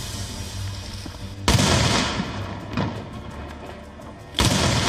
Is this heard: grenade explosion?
yes